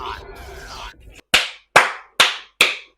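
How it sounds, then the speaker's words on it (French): Four sharp, loud hand claps spaced evenly and close by, coming right after a short stretch of speech. "J'applaudis."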